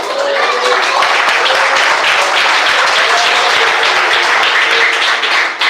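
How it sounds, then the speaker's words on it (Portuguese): A church congregation claps together in a loud, sustained, dense burst of applause that fills the room steadily throughout, with some voices mixed in. "Pode assentar, bater palmas e dar glória a Jesus."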